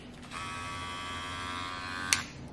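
A cordless hair clipper runs with a steady, quiet electric hum close by, a brief click near the end.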